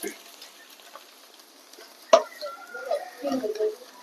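Mussels frying crisp in coconut oil in a pan, light sizzling and crackle with a sharp utensil clack partway through, fairly close, with a voice talking over it.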